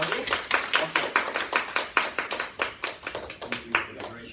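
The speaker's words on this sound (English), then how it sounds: "Let's give him a big round of applause." A small audience claps steadily for a few seconds at a health talk, the individual claps distinct and fairly close, with a voice faintly present.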